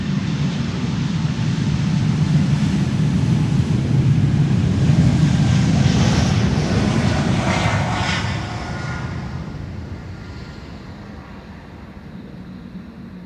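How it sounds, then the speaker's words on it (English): Embraer E195-E2 jet taking off from runway 36L, a loud, broad engine roar that builds and holds strong, then gradually fades as the aircraft departs, with some wind buffeting at the microphone. "First up, this E2 Embraer 195 going to London."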